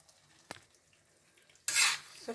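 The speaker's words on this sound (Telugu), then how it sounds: "సో ఇలా మనం 4 ఎగ్స్ కొట్టేసి పోసేసుకోవాలి." Four eggs for scrambled egg toast are handled in a kitchen: a single sharp tap against a bowl, a quiet pause, then a brief wet splash as they pour out, with faint clinks after.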